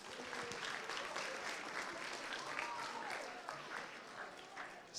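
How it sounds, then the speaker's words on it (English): Audience of students applauding in a school chapel, sustained scattered clapping heard at a distance and fairly faint, holding steady before tapering at the end. "let's give a round of applause for Mrs. Iono."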